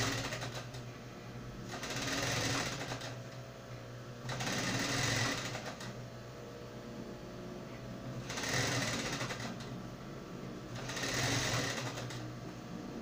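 Domestic sewing machine stitching a ruffle onto fabric while sewing a unicorn dress, running in four steady bursts of a few seconds each with short pauses between, close and fairly loud.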